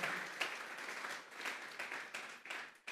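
A church congregation applauding during a service, a fairly faint but steady round of clapping with louder bursts that swell and fade.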